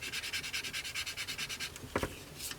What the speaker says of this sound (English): we're just going to sand these flush